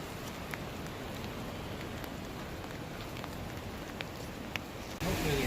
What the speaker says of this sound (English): Can you take some video of the rain?